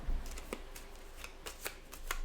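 Playing cards shuffled into an event deck during a Robinson Crusoe board game, heard as a few quick riffling ruffles and soft flicks, close and fairly quiet, with no talking over them.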